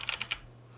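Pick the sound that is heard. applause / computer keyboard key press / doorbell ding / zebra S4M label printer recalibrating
computer keyboard key press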